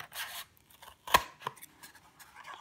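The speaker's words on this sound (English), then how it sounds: "So now time to grab your scissors." Scissors snip through a dried homemade knife-holder piece with one sharp, close cut, surrounded by softer rustling and handling noises.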